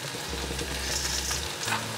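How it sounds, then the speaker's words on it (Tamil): Fenugreek seeds sautéing in hot oil for a fish curry make a dense, close crackling sizzle, with a low steady hum running beneath it throughout. "வெந்தயத்தை போட்டு கொஞ்சம் நல்லா வதக்குவோம்."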